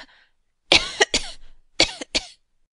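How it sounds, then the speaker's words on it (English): A few sharp, dry coughs in two quick bursts, close and fairly loud, with a short gap between them and silence around. "was affected with a cough in her throat"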